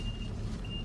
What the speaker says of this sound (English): Love this truck in the background.